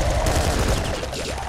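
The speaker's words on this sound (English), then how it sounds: "I'm gonna have to use my, corpse explosion." Corpse explosion in the video game Nuclear Throne: a dense, rough burst of crackling, gunfire-like blasts that fills the moment for about a second and a half, loud and close, with no talk over it.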